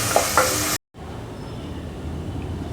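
Onions fry in a pan for rajma curry, a close sizzle with a couple of stirring clinks, then a brief cutout before a softer, steady frying hiss continues alone.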